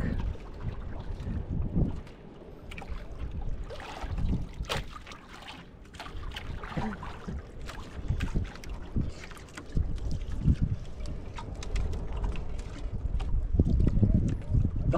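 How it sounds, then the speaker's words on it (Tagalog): A boat engine drones steadily with water and wind noise, growing louder toward the end, with brief voices now and then. "Grabe ingay ng isang bangka na yun ah."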